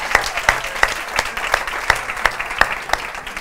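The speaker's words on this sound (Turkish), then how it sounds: "Bravo hanımefendi, alkışı." A television studio audience applauds a singer with a broad wash of clapping, cut through by a few loud, evenly spaced claps close by.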